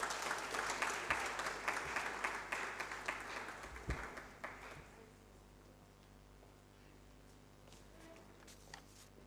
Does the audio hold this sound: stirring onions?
no